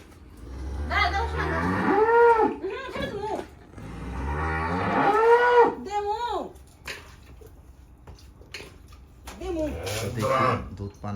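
Two dairy cows in a small cowshed with their calves let out long, loud, close moos, one after another, with quieter shuffling and brief voices in between.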